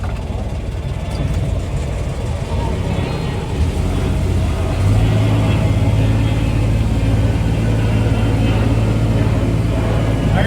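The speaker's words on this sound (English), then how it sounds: "gonna shut the engine off as soon as we get it." A sailboat's engine runs steadily while the boat heads back to the dock and begins overheating, a continuous low rumble that thickens and grows slightly louder about halfway through, with people talking over it.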